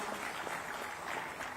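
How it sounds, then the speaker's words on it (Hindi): A large crowd applauds elderly democracy fighters at a political Emergency Day commemoration, producing a steady, even wash of clapping through the whole short stretch, with no voices. "इन बुजुर्गों के सम्मान में तालियां तो बनती हैं।"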